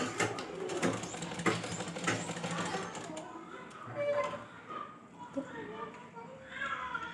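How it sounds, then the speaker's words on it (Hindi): Sewing machine stitching down the middle of an umbrella ghagra skirt, a continuous rattling whir that fades in and out beneath a voice talking throughout. "तो यहाँ पे मैं ये सिलाई ले रही हूँ।"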